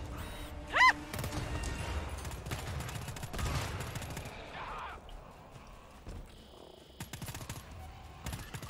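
Turret gunfire in the GTFO video game, bursts of shots over a busy mix of game noise and impacts, with a loud hit near the start and scattered sharp reports later.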